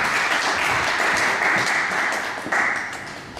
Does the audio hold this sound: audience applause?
yes